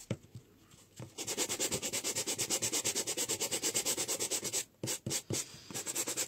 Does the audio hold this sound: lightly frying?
no